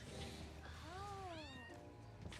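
A cat in a video game meows once, a clear rising-then-falling call lasting about a second, heard over steady background music.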